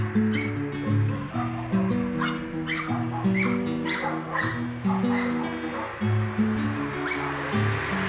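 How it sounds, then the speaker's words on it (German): Stray dogs in a Danube village in winter bark and yip repeatedly, several voices overlapping and fairly close, over a layered tonal background. "jedes Haus hat mindestens einen Kläffer, der alles verbellt, was er nicht kennt"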